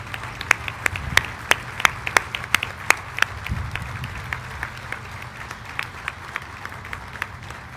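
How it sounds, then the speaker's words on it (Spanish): An audience claps at a Mexican IMSS event on safe workplaces, a scattered, uneven round of applause with sharp individual claps standing out over a softer background patter and a little low murmur. "quiero darles un aplauso enorme que me guardé durante casi dos años."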